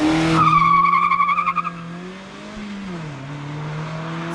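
A Mazda MX-5 launches off the line in a drag race, its tyres squealing loud and high over a revving engine, then easing as the engine note drops and settles to a steady drone.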